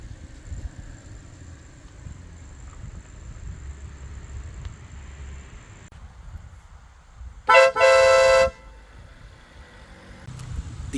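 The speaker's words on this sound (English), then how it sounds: "we come to the air horns. I got one on each side." Quiet background hum is cut by a sudden, loud honk from aftermarket air horns on a Kia Sportage, a short blast followed immediately by a longer one.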